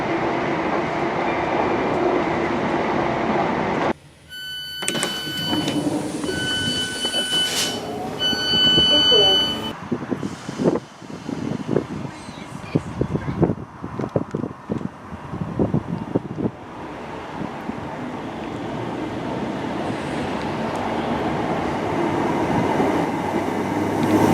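A Northern Class 319 electric train running on the railway, with a loud rumble and rattle, sharp rail clatter and whining tones, and someone talking over parts of it.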